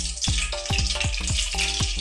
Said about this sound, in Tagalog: So, lalagyan na natin ang olive oil.